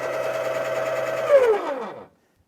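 A Baratza Virtuoso burr grinder grinds one scoop of coffee beans at a fine setting for an Aeropress, a steady close mechanical whir that winds down in pitch and stops abruptly.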